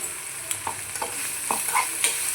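Broad beans fry with a sprinkle of turmeric powder, a soft sizzle broken by several sharp scrapes and taps of a spatula stirring the pan, close and fairly quiet.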